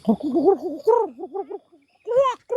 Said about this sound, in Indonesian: keruak, sebutnya keruak, burung keruak